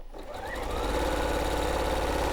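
Sewing machine running steadily while chain piecing fabric strips for a strips-and-stripes quilt, a close, continuous mechanical whir that builds up and holds throughout.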